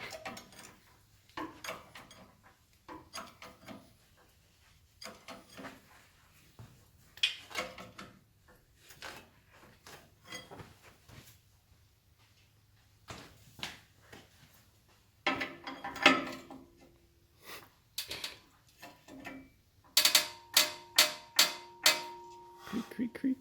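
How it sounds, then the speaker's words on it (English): Jacks are pumped up under a 1920 Allis Chalmers 6-12 tractor, giving repeated creaking and clanking metallic strokes in an irregular rhythm that grows louder and sharper toward the end, with occasional talk nearby. "now we can pump up the jacks"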